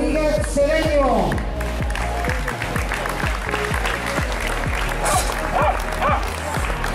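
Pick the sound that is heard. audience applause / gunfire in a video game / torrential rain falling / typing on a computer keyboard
audience applause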